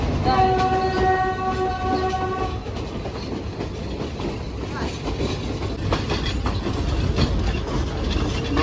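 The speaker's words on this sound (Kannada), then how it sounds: "ನೋಡಿ ಪುಟ್ಟ ಇಂಜಿನ್ ಸಣ್ಣದು ಇಲ್ಲೆಲ್ಲ ಆಲ್ಮೋಸ್ಟ್ ಟಾಯ್ ಟ್ರೈನ್ ತರ ಇದು" A small-engine train in Sri Lanka rumbles and clatters along the track, with a horn sounding for the first few seconds and metallic rattling continuing after.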